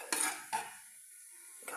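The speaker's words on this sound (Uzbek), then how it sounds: "Go'shtimiz bilan piyozimizni bir yaxshi aralashtirib qovurib olamiz." A utensil scrapes and stirs meat and onions frying in a pan with no added oil, three quick close scraping strokes over a faint sizzle.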